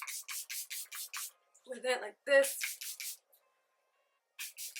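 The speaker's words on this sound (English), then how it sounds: "I'm going to now take my Charlotte Tilbury Airbrush setting spray, and I'm just going to be spraying my whole entire face" Charlotte Tilbury Airbrush setting spray misted onto a face in quick short bursts, about six rapid pumps, then a pause, and more sprays later, close and crisp, with a brief stretch of quiet speech in between.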